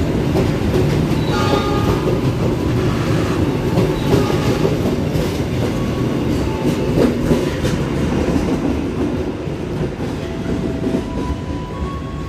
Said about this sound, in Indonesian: Kereta api Wijaya Kusuma sudah diberangkatkan dari stasiun Jember.